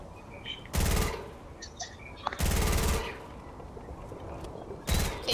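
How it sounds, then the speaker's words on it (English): Rapid automatic gunfire from the Fortnite video game comes in three loud bursts, each lasting about half a second, with quieter game noises and faint chatter in the pauses. "can you shoot at it with your gun?"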